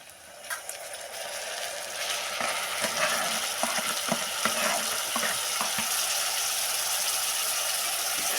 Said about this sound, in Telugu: కాలు కిలో టమోటా అండి కట్ చేసి పెట్టుకున్నాను ఇప్పుడు అవి వేసుకుంటున్నాం